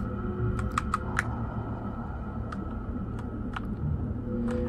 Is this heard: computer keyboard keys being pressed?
yes